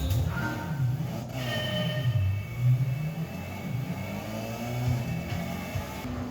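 Racing cars from Gran Turismo on a PlayStation Classic hold a steady engine drone with shifting revs throughout, a continuous mid-loud game soundtrack of motors with no talking over it.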